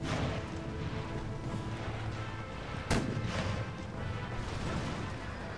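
Artillery fire in Empire: Total War during a siege, one sharp cannon boom standing out from a constant roar of battle noise and distant gunfire.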